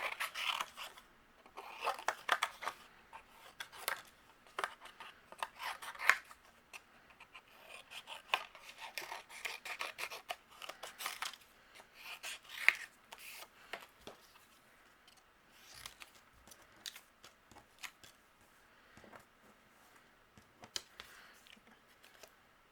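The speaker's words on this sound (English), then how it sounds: "We're going to do a little fussy cutting." Small paper scissors snip repeatedly in close, quiet detail as holly leaves and present shapes are fussy-cut for cardmaking, the crisp cuts coming in irregular clusters with soft paper rustling between them.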